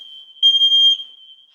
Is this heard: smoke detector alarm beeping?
yes